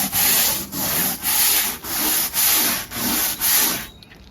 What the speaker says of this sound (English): It's like scratching a lottery ticket. Just taking that first layer off.